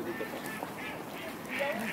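Swans on thin ice give soft honking and nasal calls, several overlapping at close range over a low background.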